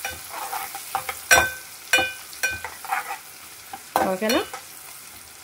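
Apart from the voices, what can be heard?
curry leaves with stalks frying and being stirred in a pan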